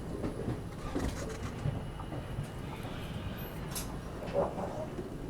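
A train on the Sirpur Kaghaznagar–Bidar Express route between Manchiryal and Secunderabad passes by, with a steady low rumble of rolling wagons and rail noise that stays fairly constant and moderately loud throughout.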